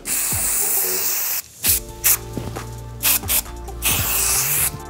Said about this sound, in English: hold the hairspray 6 to 8 inches away from the hair and spray to hold